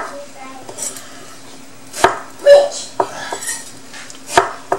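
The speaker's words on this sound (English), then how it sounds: "So I cut in like a small piece here" A knife chops Don qua squash into small pieces on a cutting board in a Thai home kitchen, giving a few sharp, close thuds at uneven intervals with light kitchen clatter between them.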